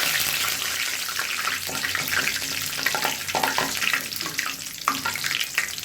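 Mustard seeds, cumin and curry leaves crackle and spatter in hot oil for a fish curry, a loud, close, continuous fizzing with dense popping throughout and no voices.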